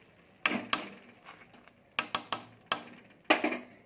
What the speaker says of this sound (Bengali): ঘিটা দিয়ে আমি ভালো করে নেড়ে নিচ্ছি এর সাথে।